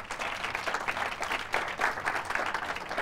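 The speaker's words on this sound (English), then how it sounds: "One more round of applause, guys, yeah." Audience at a conference panel discussion applauding steadily, a dense wash of many hands clapping at moderate distance for the full span without talk over it.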